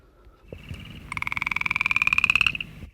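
An upland chorus frog gives one clear, rising trill of rapid pulses lasting about a second and a half, close and distinct against a quiet background.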